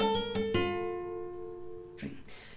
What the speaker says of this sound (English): So the exercise will sound like this.